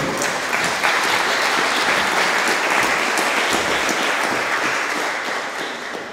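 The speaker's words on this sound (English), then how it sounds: "Give her a round of applause." An audience at a Boston College tribute evening applauds Sheila Derrane, daughter of button accordion player Joe Derrane, with steady, dense clapping that fills the room throughout and fades slightly near the end.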